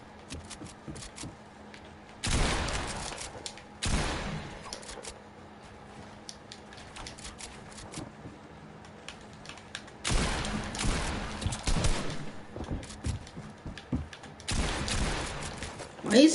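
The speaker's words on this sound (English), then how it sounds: "What are you shooting at?" Gunfire in a video game, several bursts of dense rapid shots of a few seconds each, separated by quieter stretches with faint clicks and game noise.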